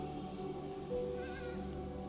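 Sheep bleating out in open valley country, a drawn-out wavering bleat over a steady murky background, moderately close.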